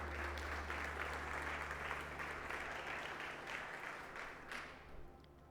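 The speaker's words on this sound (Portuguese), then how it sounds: "Você pode aplaudir o Senhor por causa disso?" A church congregation applauds in a steady, dense wash of clapping, with a low hum underneath, gradually thinning and fading toward the end.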